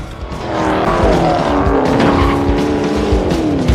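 A car roars and skids in a chase scene from the action film Hobbs & Shaw, engine revving loudly with rising pitch and tires squealing continuously through the moment, no speech heard.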